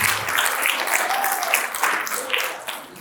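Crowd applause at a national theatre festival in an auditorium, a broad wash of clapping that holds steady for a few seconds before easing off toward the end.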